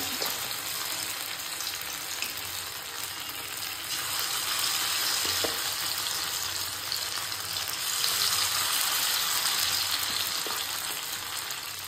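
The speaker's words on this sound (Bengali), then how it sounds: "কড়াইয়ের মধ্যে তেল দিয়ে দিয়েছি তেলটা গরমও হয়ে গেছে এবার পকোড়াগুলো দিয়ে দেব" Rice and lentil batter pakoras fry in a wok of hot oil, producing a steady, dense crackling sizzle that continues evenly throughout with faint occasional clinks.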